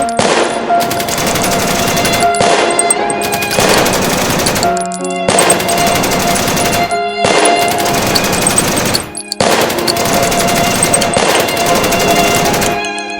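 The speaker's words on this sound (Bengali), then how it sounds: "পুলিশ আর দেরি করেনি গুলি চালাতে।" Sustained bursts of rapid automatic gunfire from police, loud and close, running several seconds each with brief gaps between volleys.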